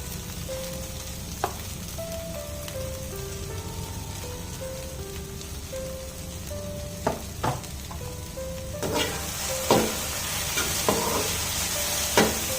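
Coriander and chili powder fry in a pan on a high flame, giving a steady soft sizzle with occasional sharp scrapes and taps as the spices are stirred, and a faint tonal melody sounds in the background.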